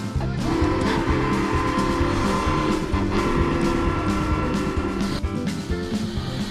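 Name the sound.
narrow-gauge oil-burning steam locomotive, Sugar Pine Railroad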